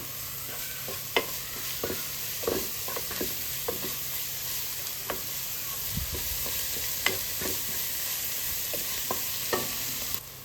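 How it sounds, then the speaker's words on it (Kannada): Coriander, garam masala and cumin powder frying in a pan sizzle quietly and steadily while a spoon scrapes and taps the pan at irregular intervals, with a low thump midway and no speech. "ಸ್ವಲ್ಪ ಜೀರಿಗೆ ಪುಡಿನ ಹಾಕಿ ಚೆನ್ನಾಗಿ ಫ್ರೈ ಮಾಡ್ಕೋತಾ ಇದ್ದೀನಿ"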